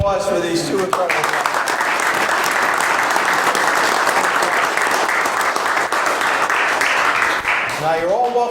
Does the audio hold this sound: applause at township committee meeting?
yes